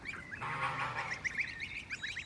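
Young geese, two greylags and a Toulouse, honk in a small outdoor pen, with a run of short nasal calls, one longer honk and then quick repeated cries, faint and close.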